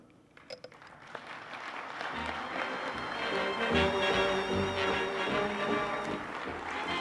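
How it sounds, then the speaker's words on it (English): An audience at a restaurant-industry conference awards ceremony applauds. The clapping starts thin and builds to a full, sustained crowd sound with some faint tonal music or background noise underneath. "Let's one more round of applause for Tony Brinker, please."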